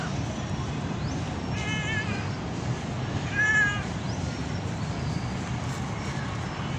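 A cat gives two or three faint meows outdoors, spaced a second or two apart, over a steady background of distant crowd and city noise.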